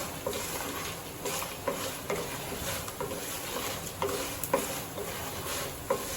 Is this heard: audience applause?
no